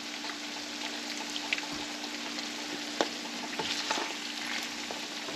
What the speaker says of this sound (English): so you can just drain the grease.